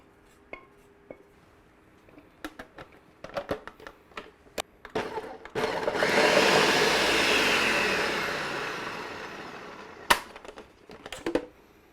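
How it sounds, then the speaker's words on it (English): A few clicks and knocks, then a blender pureeing a cooled sauce roars up loudly for several seconds, its whir holding steady before cutting off into more clattering. "Let's go ahead and throw this in the old blender here."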